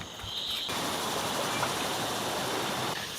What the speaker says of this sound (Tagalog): So ito yung isa sa mga ilog dito na aming tatawirin kapag mag-aaral kami doon sa baba sa barangay namin